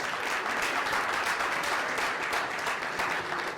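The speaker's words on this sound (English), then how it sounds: "I thought that the clapping will continue until I reach here." An audience at an entrepreneurship launch event in Ghana keeps up a steady, even round of applause for the full few seconds, with no talking.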